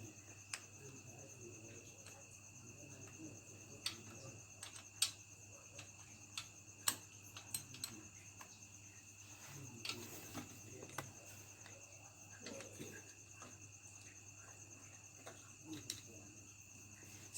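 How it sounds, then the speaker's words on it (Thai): Steady, high-pitched cricket chirping fills a quiet night, with faint scattered ticks and clicks and a low background hum. "จิ้งหรีดดังก็ขออภัยนะครับ"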